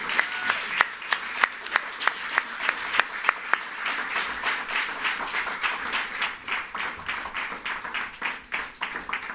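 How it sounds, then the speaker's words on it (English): An audience at a well-being and social sustainability seminar gives the speakers a steady round of applause, many hands clapping close and continuous, with a few sharp individual claps standing out early and the sound holding throughout. "So can I give a round of applause for our speakers?"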